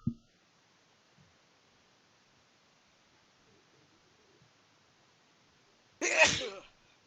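A single loud, close sneeze bursts out after several seconds of near silence, preceded by a faint click and tiny rustles.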